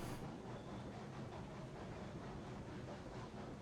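A long freight train rolls along in the Railroads Online video game, a steady low rumble and clatter of many cars running continuously at moderate distance, with no talking.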